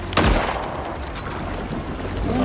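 Gun firing underwater in the survival game Icarus, a sharp muffled boom near the start followed by a rushing, watery wash of noise that swells again at the end.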